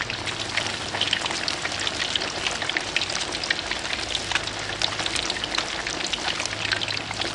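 Flour-dredged fish pan frying skin side down in a flat, heavy-based pan, a dense, even crackling sizzle like rain that holds steady and moderately loud throughout with no talking.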